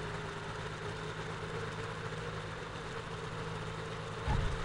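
With the throttle pulled fully back during a landing in Flight Simulator X, an aircraft engine idles as a steady low drone with a constant hum. It rises briefly near the end.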